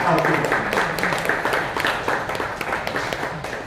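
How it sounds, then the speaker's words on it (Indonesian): Crowd applause at a 15th anniversary celebration, steady clapping from many hands filling the room, with a voice speaking over it at times. "Kita kasih aplaus untuk Bapak Budiman"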